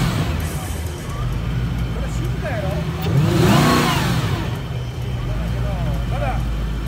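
A McLaren car engine revs, surging loudly once mid-way and then easing back, heard over steady street noise while people talk nearby.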